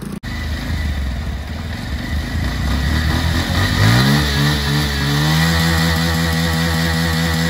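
A Hero Splendor motorcycle, stuck in a river, runs after a single kick start: a loud, steady single-cylinder putter close by whose pitch climbs and settles into a smooth idle, with no talking.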